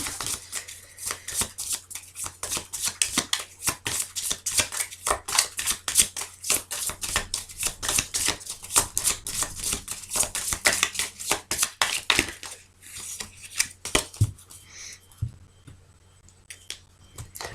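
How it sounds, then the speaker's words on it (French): Tarot cards being shuffled close up, a long run of rapid crisp riffling flicks that continues for about twelve seconds, then slows into a few scattered card taps and slides. "on va aller chercher quelques cartes du tarot aujourd'hui."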